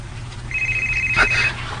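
A cellphone rings with a steady electronic tone lasting about a second, heard fairly close over a low background hum.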